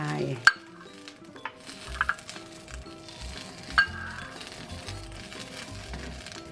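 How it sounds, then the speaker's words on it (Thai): Green chilies dry-roasting in a pan, with rustling, tapping and scraping as they are stirred and turned, plus a few sharp utensil clinks against the pan. "ส่วนพริกเขียวนี่เราก็จะคั่วๆอย่างนี้นะคะ พริกหนุ่มนี่เราก็จะพริกให้สุกให้ทั่ว"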